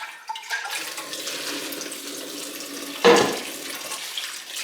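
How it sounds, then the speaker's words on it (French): Water runs steadily over soaked soybeans being rinsed with filtered water for homemade tofu, a continuous close splashing hiss with a brief louder gush midway, no talking. "Et on va bien rincer, si possible, à l'eau filtrée."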